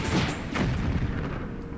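Bombs going off in Zelda: Skyward Sword, a dense rumbling boom with a sharp blast near the start, sustained and fairly loud for under two seconds with no talk.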